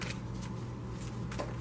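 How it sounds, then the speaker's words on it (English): Tarot cards being shuffled by hand, a soft, close riffling and sliding of the deck in quick bursts, fairly quiet, with no voice over it. "So I'm just shuffling as I talk."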